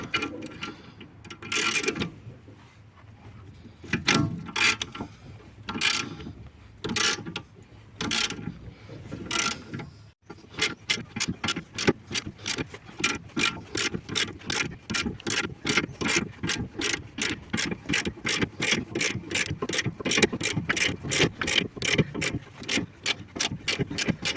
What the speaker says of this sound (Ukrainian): Зараз я можу вже брати вороток і воно пішло вже.